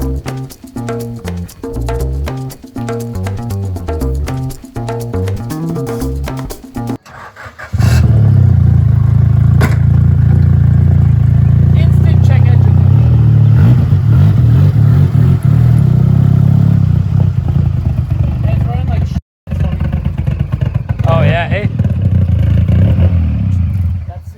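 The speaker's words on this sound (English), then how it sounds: "This motor sounds so happy." A third-generation Honda Prelude's engine catches and settles into a loud, close, steady running drone that lasts most of the clip with one brief cutout, after a stretch of talk and clatter at the start.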